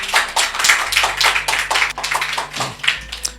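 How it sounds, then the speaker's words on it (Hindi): A small audience at a church meeting claps in loose, uneven bursts, hand claps standing out sharply over a low steady hum. "अब बजाइए ताली"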